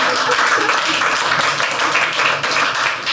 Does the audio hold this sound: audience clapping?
yes